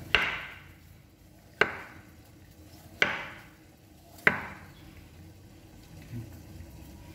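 Four sharp knife strikes splitting jamu herbal ingredients on a board, each a crisp chop with a short ringing decay, spaced about a second and a half apart, close and distinct against quiet background.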